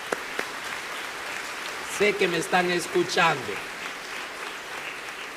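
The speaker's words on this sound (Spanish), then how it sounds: "Regalémosles un aplauso a los que hicieron eso allá." Congregation applause during a priest's Gospel reflection: a steady, moderate wash of clapping runs throughout while someone speaks over it.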